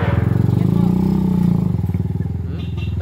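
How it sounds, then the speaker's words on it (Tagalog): A TMX125 Alpha motorcycle converted to a 210cc engine idles and runs steadily close by, its pulsing low exhaust note continuous under the whole stretch. "Sarap patakoy ng motor niya."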